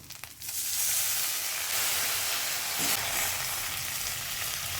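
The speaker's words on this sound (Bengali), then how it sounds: "হলুদ দিয়ে দেব যাতে আদা জিরে বাটাটা না ছিটকায়। কষানোর জন্য একটু জল দিয়ে দেব।" Ginger-cumin paste with turmeric and a splash of water frying in a pan, a steady loud sizzle and hiss throughout with no talking.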